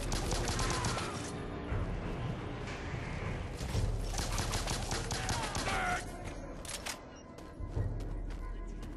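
Rapid, dense gunfire from shooting enemies in the video game Bionic Commando fills the scene, loud and nearly continuous, mixed with other game effects.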